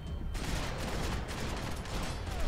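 Rapid gunfire from the Max Payne 3 video game, a dense, loud, continuous fusillade of overlapping shots across the whole stretch with no talk over it.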